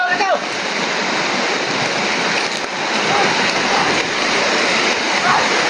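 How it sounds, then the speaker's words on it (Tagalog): Heavy rain pours outdoors as a constant, loud, hissing wash, with people's voices faintly audible beneath it. "Matras sila kasi ulan na."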